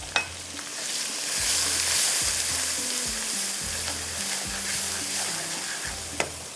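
Onion with ginger-garlic paste and ground coconut masala sizzles and fries in oil in a pan, a steady loud crackle with rhythmic scraping strokes of a spoon stirring throughout, no voices.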